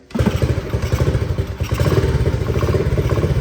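A 1971 Honda SL70 motorcycle engine catches and runs with rapid, loud, steady low putter, close by and alone after a brief clatter at the start.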